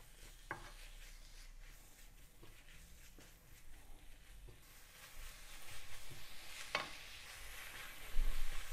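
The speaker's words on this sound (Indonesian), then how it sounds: "Kita tumis sampai dagingnya" Meat sautéing in a pan for spaghetti carbonara, a faint steady sizzle with occasional light scrapes and a couple of sharp metallic taps, growing slightly louder toward the end.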